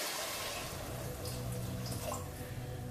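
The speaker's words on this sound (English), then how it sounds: "And we'll add the water" Water pours and splashes steadily into a hot cooking pan after red wine, a continuous wet rushing sound with a faint underlying hiss.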